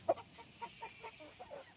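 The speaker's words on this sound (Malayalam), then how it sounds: "കോഴികളുടെ എണ്ണൊക്കെ കുറച്ചു" Chickens in a backyard coop cluck softly, with a short run of faint, scattered clucks.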